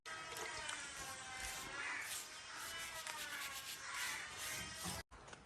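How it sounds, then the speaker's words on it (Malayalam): A brush spreads white cement wash over an old nest in steady, continuous scrubbing strokes that swell and ease in rhythm, close and fairly quiet, ending in a brief pause. "ഇനി നമുക്ക് ബ്രഷ് കൊണ്ടാണ് അടിക്കേണ്ടത്"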